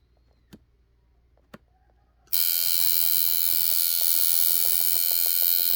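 A rotary or coil tattoo machine set to about 8.5 to 9 volts switches on after two faint clicks and runs with a steady, loud, close buzz that holds to the end.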